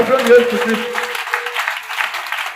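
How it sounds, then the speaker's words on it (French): Church congregation applauding and cheering during an evangelical service, a dense wash of clapping and shouting voices that stays loud throughout. "Acclame trop fort Jésus"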